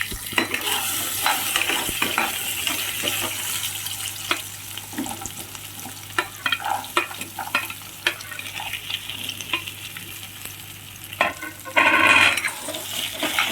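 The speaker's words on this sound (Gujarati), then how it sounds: "એની અંદર 1 ચમચી તેલ નાખીશું અને પછી એને બધા નાખી અને સાંતળીશું" Potatoes, peas, carrots and capsicum sauté in a spoonful of oil in a pan, giving a steady soft sizzle with repeated scraping stir strokes throughout and a louder burst of frying near the end.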